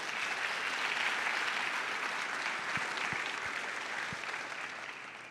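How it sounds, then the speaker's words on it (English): Audience applause at a business leadership talk, a steady wash of clapping from a large room that gradually fades, with no voices on top. "Give yourself a round of applause."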